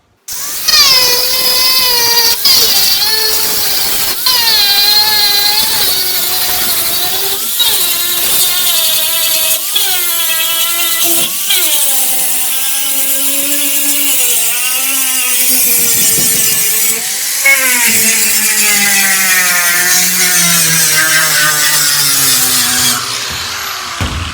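An angle grinder sands a small scrap piece of metal during basic fabrication work, giving a loud, continuous whine that holds for the full stretch while its pitch rises and dips as the disc loads and eases against the metal.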